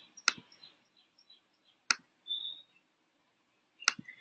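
Three crisp, isolated clicks of a computer mouse, spaced about a second and a half apart, close and quiet against near silence.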